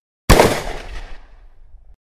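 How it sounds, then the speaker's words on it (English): A gunfire sound effect in a radio drama: one sharp, loud blast after a moment of silence, decaying into a rolling, rattling echo that fades out over about a second and a half. "A second before the black blast of gunfire rips out"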